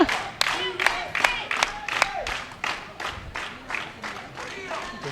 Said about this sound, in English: see everybody clapping here